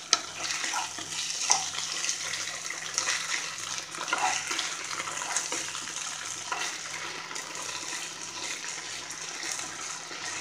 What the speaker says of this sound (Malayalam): ഉള്ളി ഒന്ന് മൂക്കുമ്പോൾ നമുക്ക് അതിലേക്ക് ഇഞ്ചി വെളുത്തുള്ളി പേസ്റ്റ് ഇട്ട് കൊടുക്കണം